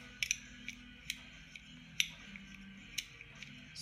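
A 2.5mm Allen key loosens the motor connector screws on a Rotary Works ID Liner tattoo machine, giving a few sparse, quiet metallic clicks and ticks spaced about a second apart over a low background hum.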